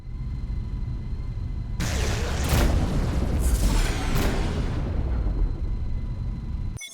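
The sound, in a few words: spaceship broadside cannons firing in a video game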